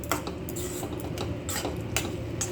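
A spoon stirs flattened rice into a banana flower and lentil dish in a pan, giving a few close metallic clinks and scrapes at a loose, regular pace.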